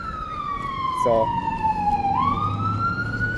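Ambulance siren on a city street in Chinatown, Honolulu, a loud sweeping wail that falls and then rises again, heard from a moving electric scooter over road noise, with a brief spoken word.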